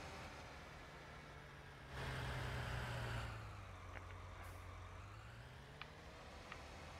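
A truck backs up a trailer in Farming Simulator 19, a low, steady diesel drone that swells briefly as the throttle rises, with a few small clicks and clanks over the running engine and no voices.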